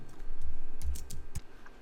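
Computer mouse clicking while working in InDesign, a few light, quick clicks scattered over a soft background hum, close and faint.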